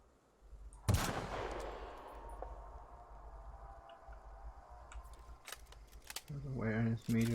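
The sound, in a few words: gunshots in the video game The Outer Worlds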